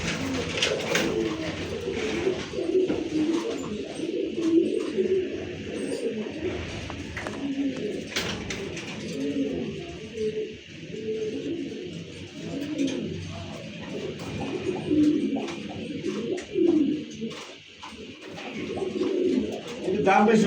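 Pigeons of fancy breeds such as Giribaz, Lahori, Bombay, Satin and racers coo continuously in a loft, with a low rolling chorus of calls running throughout and a person talking intermittently over them.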